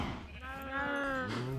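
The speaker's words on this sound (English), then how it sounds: "Let's get trampled by cows." Cows mooing in the Minecraft video game, a drawn-out lowing call that rises and falls with layered harmonics, fairly close and clear, with a second shorter moo starting near the end.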